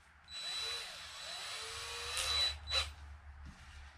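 A power drill drives screws into a wooden roller stand for a Mercruiser sterndrive, a steady whirring run with a couple of brief higher-pitched bursts near the end.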